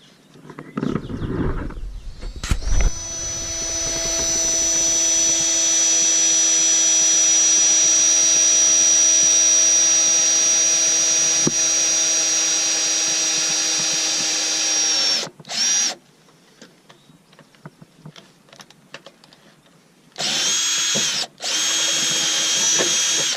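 A power drill whines steadily for about twelve seconds with a high motor pitch, drilling holes to mount a RAM mount, followed by a few shorter bursts of drilling separated by brief pauses.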